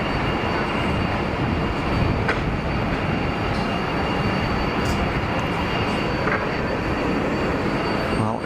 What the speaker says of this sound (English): Well, it's an Airbus